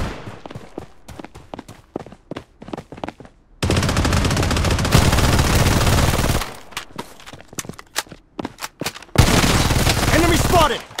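Automatic gunfire from the multiplayer shooter Blood Strike comes in dense sustained bursts that alternate with short stretches of scattered single shots and footsteps, loud and close.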